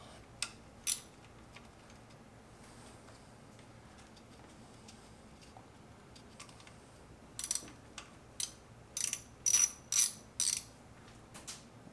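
A ratchet undoes a ground bolt on a BMW S55 engine, giving a few soft clicks early, then a burst of sharp ratcheting ticks near the end, close by and without talk.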